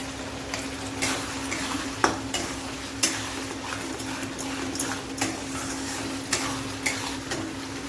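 Rui fish pieces with potatoes, fish head, turmeric and coriander powder being sautéed in a pan, a steady sizzle with periodic sharp scrapes and knocks of a spoon stirring against the pot.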